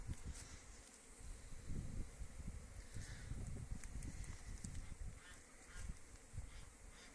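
Steady, dense buzzing of many honeybees flying around their hive on a winter cleansing flight in January, a continuous hum with individual insects passing close, no voices.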